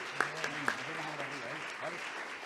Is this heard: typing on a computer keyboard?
no